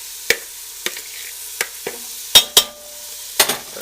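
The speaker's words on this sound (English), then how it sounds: "We're gonna stir and shake the pan while we're doing it so everything gets coated in butter." Mirepoix fries gently in butter in a pan on a gas stove for cream of mushroom soup. A spoon stirs the pan with sharp, irregular clinks against the metal, heard close over a soft, steady sizzle.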